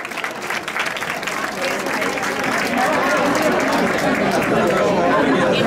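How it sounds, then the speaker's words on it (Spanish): Audience applause for prize winners at a Roscón celebration for elderly people, steady crowd clapping that swells and holds loud, mixed with background chatter. "Un aplauso fuerte para ellos,"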